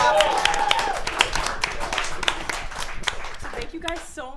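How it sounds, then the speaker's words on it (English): An audience claps for an a cappella group in a studio, brisk, dense applause heard close by that thins out toward the end as voices start to speak over it. "a round of applause again for them"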